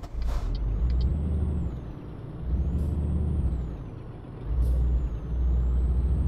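Simulated truck air brakes in Euro Truck Simulator 2, three sharp pneumatic hisses spaced about two seconds apart over a loud, low engine rumble, with a faint whistling tone sliding alongside, no speech.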